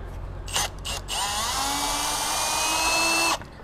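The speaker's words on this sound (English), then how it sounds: "because it's all done by the drill" A cordless power drill installs a JW OffRoad tire carrier on a GX470, two short bursts followed by a sustained high whine that rises and holds for about two seconds before cutting off.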